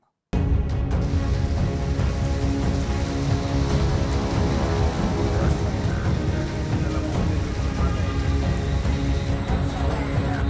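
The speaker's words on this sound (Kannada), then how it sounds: "ಕರಾವಳಿ ಭಾಗದಲ್ಲಿ ಸುರಿತಾ ಇರುವ ಮಳೆ" Heavy monsoon rain pours down in Mangaluru during flooding, a dense, constant hiss, loud and unbroken from start to finish, with no voices.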